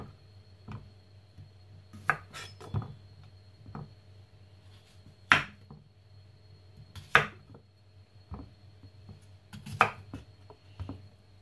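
A knife chops a washed cucumber on a board: a dozen or so irregular, sharp, close knocks spread across a quiet background with a low steady hum.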